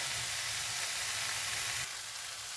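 Chicken samosa filling sizzling steadily in a pan over lowered heat, a close, even hiss of frying without pause.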